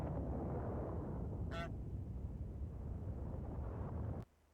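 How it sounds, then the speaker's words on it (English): A single short goose honk cuts through the loud, steady roar of a rocket launching from a silo in the Factorio game, and the rumble drops away abruptly near the end. "there's a flock of geese got into the rocket silo. So now they just honk at the rockets as they launch."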